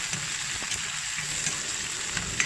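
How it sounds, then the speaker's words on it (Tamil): Onions and curry leaves sauté in a pan for a bitter gourd masala, giving a steady, close, even sizzle with faint stirring scrapes throughout and no talk. "கட் பண்ணி வச்சுருக்கிற வெங்காயம், கருவேப்பிலை, இது எல்லாத்தையும் இதில் போட்டு வதக்கி எடுக்கலாம்"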